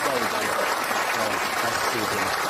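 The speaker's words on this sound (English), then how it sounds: "Give them a round of applause" Studio audience applauding a departing guest on a morning television show, a dense, steady wash of clapping that runs loud and even from start to finish.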